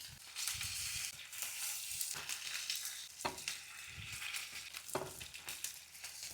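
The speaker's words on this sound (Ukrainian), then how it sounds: "готуємо крила 3-4 хвилини з кожної сторони" Chicken wings marinated with ginger frying in a pan make a continuous soft sizzle with crackling spits and occasional stirring scrapes, fairly quiet and heard alone.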